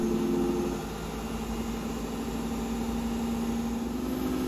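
A GE Profile Ultrafast 2-in-1 combo washer dryer drum spins up during a hidden service-mode test, giving a steady, moderately loud motor hum with a constant tonal whine and no talk.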